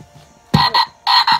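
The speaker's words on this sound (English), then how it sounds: "Oh, hey, Frog" A frog croaks loudly in four short, close bursts, two paired calls separated by a brief pause, with nothing else around them.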